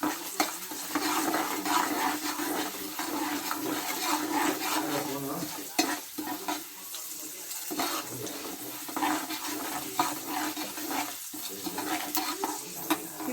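Chana dal and mustard seeds fry in a pan for avarekalu uppittu, a steady crackling sizzle with stirring scrapes running throughout, close and moderately loud, with no talking.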